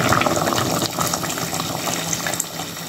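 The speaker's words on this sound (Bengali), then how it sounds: "পরিমাণ মতো আমি জল দিলাইম" Water pours into a pot of simmering fish and tomato curry, a continuous close gushing stream that fills the pot for a few seconds.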